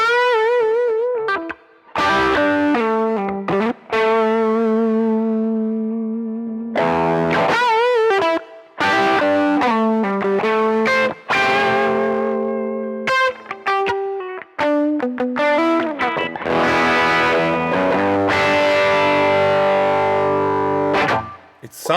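Distorted electric guitar run through a VGU Stomp-O-Matic cab simulator with resonance cranked, Marshall-style tone, playing sustained chords and single notes with brief gaps, loud and close, with a reverb tail.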